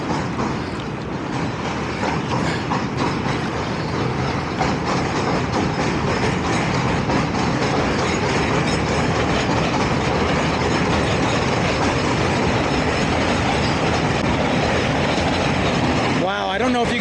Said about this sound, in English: I hear a train going overhead.